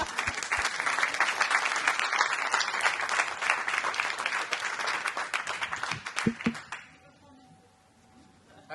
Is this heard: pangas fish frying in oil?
no